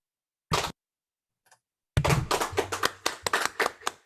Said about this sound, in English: that's nice to have clapping on Zoom